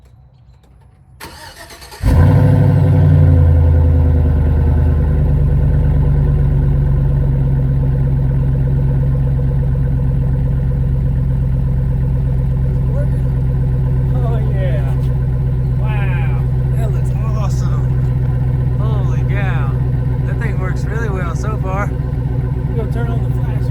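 A Chevy Silverado pickup cranks over and its engine catches at about two seconds, then settles into a steady, loud idle that runs on alone for the rest of the stretch.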